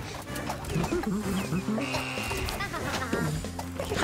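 A sheep character in the video game Ultimate Chicken Horse bleats amid busy game sounds and chirpy effects, with people talking over it.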